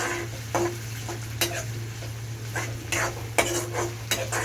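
Eggplant masala stir-fried in hot tempering, with repeated scraping and clinking strokes of a spoon against the pan over a low steady sizzle and hum, close and rhythmic, no talking.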